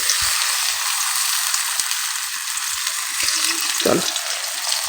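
Pumpkin fritters coated in rice flour batter sizzle in hot oil in a wok, a loud continuous frying hiss with a few soft clinks and brief low voices underneath.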